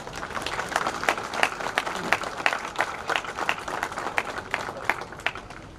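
Crowd applause at a CISF constable passing-out parade, steady mass clapping heard from a distance and sustained at an even level for several seconds.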